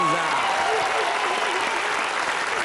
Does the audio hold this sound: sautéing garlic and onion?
no